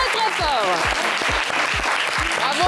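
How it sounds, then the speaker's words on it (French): A game show studio audience applauding loudly and continuously, with a voice rising over the dense clapping. "Oui, on les applaudit très très fort."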